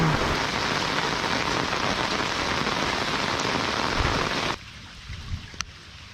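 Heavy rain pours down in a loud, dense, unbroken hiss during a downpour beside a river's rapids, then cuts off abruptly, leaving a quieter background with a few light knocks.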